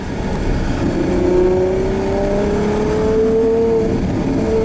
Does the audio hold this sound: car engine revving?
yes